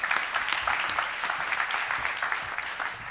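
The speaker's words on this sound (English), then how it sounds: "Can we give a little round of applause for Chu, who brings to the stage?" A conference audience claps steadily throughout, a dense, even patter of applause heard from within the audience, with no voices standing out.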